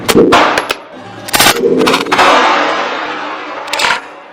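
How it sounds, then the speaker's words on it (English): A handgun fired one-handed at a shooting range: a series of loud, sharp shots in quick bursts with echoing tails, close and dominant, with no talk. "you're going to shoot 5 with just your right hand, and then 5 with just your left"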